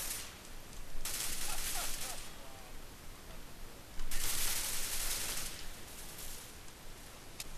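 Bursts of shotgun fire in the video game CS:GO, two loud blasts with broad noisy tails about three seconds apart, against steady game background noise.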